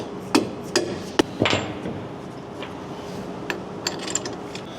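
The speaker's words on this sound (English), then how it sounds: "we're gonna take our stainless steel bolt with our crush sleeve and just tap this into place" Hammer taps a stainless steel bolt with a crush sleeve into place while installing traction bars on a 1994-2002 Dodge Ram 2500/3500: a few sharp, close metallic strikes spaced irregularly, with quieter knocks after.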